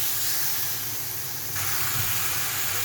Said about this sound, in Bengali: মাংসটা এখানে একটু ভেজে নিব